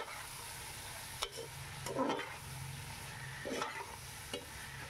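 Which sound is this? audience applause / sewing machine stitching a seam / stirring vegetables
stirring vegetables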